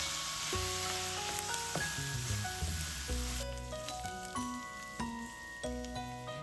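Steady sizzling of ginger and Yibin Yacai frying in a pan, a continuous crackling hiss with occasional ticks and stirring sounds, close and moderately quiet, with no talking.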